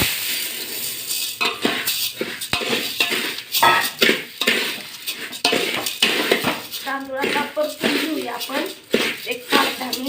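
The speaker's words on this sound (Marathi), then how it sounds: "लवंगा टाकूया दोन चार नंतर तमालपत्र टाकूया नंतर तांदूळ टाकूया" Cloves, a bay leaf and rice tumble into a metal pot for chicken biryani, making repeated clinks and rattles of utensils against cookware in uneven bursts while a person talks.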